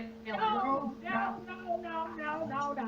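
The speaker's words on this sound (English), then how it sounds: "Brennan, calm the cat. Look at the cat" A cat meows in a run of drawn-out, wavering cries, several in a row, close and fairly loud, with a steady hum underneath.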